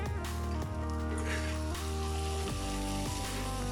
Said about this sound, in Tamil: இப்போ நல்லா வதங்கிட்டே இருக்குது.